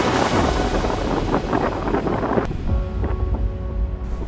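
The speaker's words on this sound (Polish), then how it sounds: "Wichura próbowała nam wyrwać kamerę z ręki." Strong wind gusts roar across an open landscape in Patagonia, buffeting the microphone with loud rumbling bursts that ease into a steadier blow with some tonal hum in the background.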